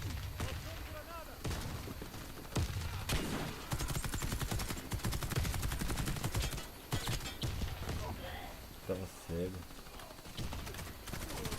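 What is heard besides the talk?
gunfire in a video game, Warface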